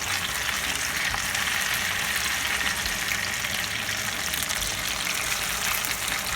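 Potato pancakes frying in a pan give off a steady, bright sizzle that holds evenly throughout, close and moderately loud with no talking.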